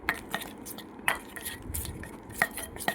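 A spoon stirs six tan-removal face pack ingredients together in a bowl, giving close, scattered clinks and soft scraping against the sides over a quiet background.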